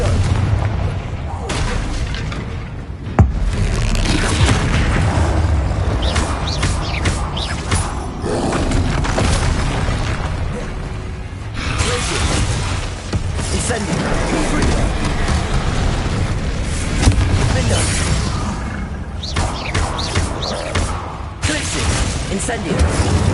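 Confringo blasting spell explosions, a dense run of booming blasts and crashing impacts overlapping one another, with a voice repeatedly shouting spell names over the din.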